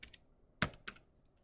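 Several sharp keystrokes on a computer keyboard, with two clear clicks standing out among a few fainter taps, close and quiet with no voices.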